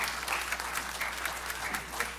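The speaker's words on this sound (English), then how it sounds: "Give these folks a hand clap." Congregation clapping in a church, a brief burst of steady dense applause from many hands, moderately distant.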